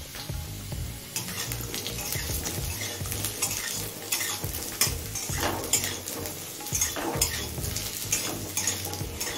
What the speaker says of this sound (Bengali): গরম মশলাটা দিয়ে আলুর সাথে আরো মিনিট 2-3 ভেজে নিয়েছি